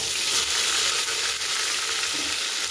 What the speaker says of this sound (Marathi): मोठे मी 2 कांदे कट मस्त केलेत आणि उभा चिरून फ्राय केले